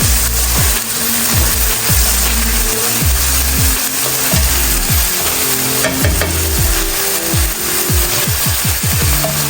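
Curry saltfish and tinned mackerel rundown sizzles in a pan on the stove as a spoon stirs it, with loud continuous frying hiss and repeated scraping, knocking strokes close by.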